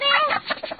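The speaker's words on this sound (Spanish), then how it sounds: "Agarra el gallo, tú agarra el gallo." A rooster gives a brief close cluck, a short warbling call that trails into a few quick clucks.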